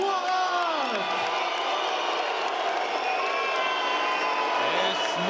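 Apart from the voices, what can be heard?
boxing crowd applause mixed with whistles from Bösel fans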